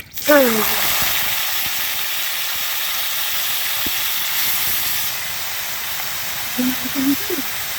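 Green chillies dropped into hot oil set off a loud, steady hiss that begins abruptly and holds throughout, with a few faint tonal squeaks near the start and end.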